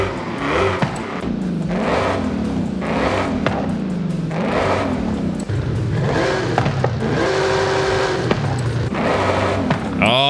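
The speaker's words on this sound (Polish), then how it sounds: "Ładujemy moc i teraz słuchamy wydechu." Opel Calibra exhaust revving in Forza Horizon 5, a loud continuous engine note rising and falling through several rev sweeps, with a brief higher whine near the end.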